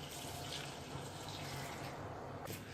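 Water runs into a pot in a home kitchen to wash it after making jaggery kudumulu, a steady gentle splashing flow.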